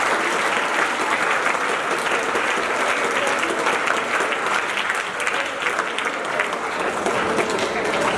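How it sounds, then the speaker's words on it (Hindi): Students at a school workshop clap loudly together, a thick, sustained burst of applause from a large group that fills the whole stretch without letup. "बच्चों अपने स्वयं के लिए एक बार जोरदार से ताली बजाएं।"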